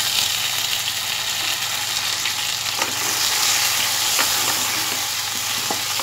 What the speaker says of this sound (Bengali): এইবার আমি একটি মিডিয়াম সাইজের টমেটো কুচি দিয়ে দেবো